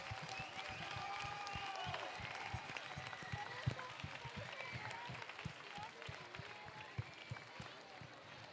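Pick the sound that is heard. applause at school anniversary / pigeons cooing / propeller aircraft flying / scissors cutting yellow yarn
applause at school anniversary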